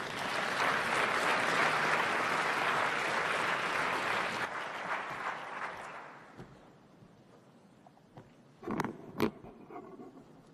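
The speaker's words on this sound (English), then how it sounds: "Round of applause" An audience at the closing ceremony of Transform Africa 2017 in Kigali, Rwanda, applauds in a dense, loud round of clapping that fades after about six seconds, leaving a quiet room with a few scattered sounds.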